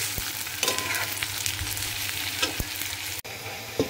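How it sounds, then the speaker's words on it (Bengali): Onions frying in hot oil for a Kolkata-style chicken dum biryani, with a loud continuous sizzle and occasional spatula stirs and knocks against the pan, no talking. "এদিকে পেঁয়াজটাও সঙ্গে সঙ্গে আমরা ভেজে নিচ্ছি।"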